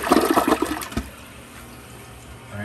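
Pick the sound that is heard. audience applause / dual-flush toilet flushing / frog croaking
dual-flush toilet flushing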